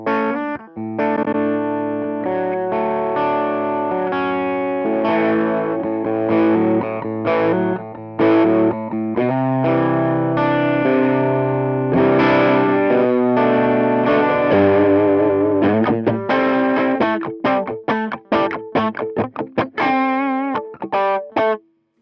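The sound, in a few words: electric guitar through Hotone Ampero Twin Rock 2x12 model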